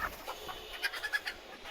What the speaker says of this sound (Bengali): এই কম্পার্টমেন্টে কিছু মুরগি আছে